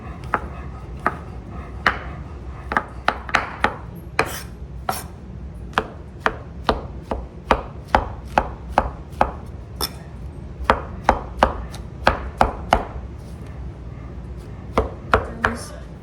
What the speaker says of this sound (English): there we go, mushrooms cut so they don't burn.